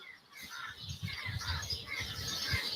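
Many birds call together in a continuous outdoor chorus at night in Tanzania, overlapping squawks and chirps close and far with no clear pauses.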